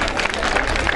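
Audience applause at a magic show on the beach, a dense, continuous wash of clapping and crowd noise lasting about a second, loud and close.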